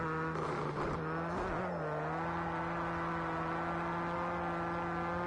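Rally Fighters racing game car engine held at a steady hum, with a brief burst of throttle blips and revving near the start before settling into a continuous drone.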